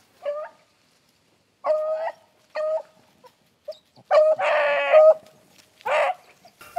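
Hunting dog on a swamp rabbit chase, baying in repeated bursts of yelps and drawn-out howls, fairly close and clear, with short pauses between calls and no one talking over it.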